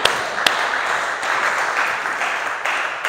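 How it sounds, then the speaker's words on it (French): A church congregation breaks into applause for Nehemiah during a Sunday service, a sustained wash of clapping with a couple of sharper claps standing out. "Acclamons très fort Néhémie."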